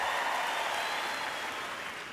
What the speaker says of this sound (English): The audience gives Austin a big applause.